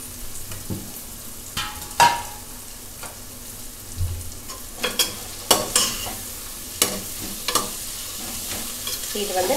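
Green peas stirred and fried in a pan for a coconut-milk lunch dish, with a steady low sizzle broken by repeated sharp scraping clacks of the spoon at irregular intervals, close by.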